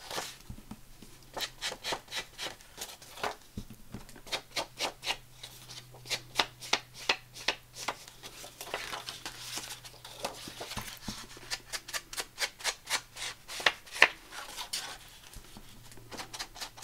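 An eraser rubs a pencil mark off paper in quick rhythmic bursts of scratchy strokes, close and fairly quiet, with short pauses between runs.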